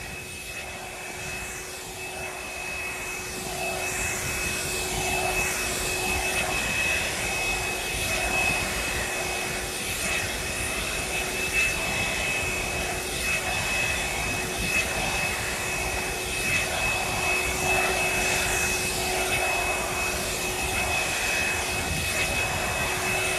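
Handheld hair dryer blowing hair dry during a hair spa and blow-dry styling, a steady loud whooshing roar with a high whine running continuously throughout, no talking.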